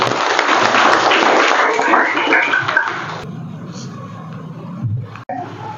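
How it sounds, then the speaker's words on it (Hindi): Applause from an audience rewarding children after a quiz answer at a national sports day event, a broad dense wash of clapping that stops abruptly midway, leaving a quieter room with low murmur. "जोरदार तालियां।"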